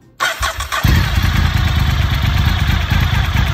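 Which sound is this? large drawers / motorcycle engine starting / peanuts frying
motorcycle engine starting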